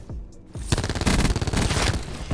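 Spitfire submachine gun in Call of Duty: Black Ops 4 fitted with a dual zoom attachment, firing a loud, rapid sustained burst after a half-second of quieter game sounds, continuing to the end.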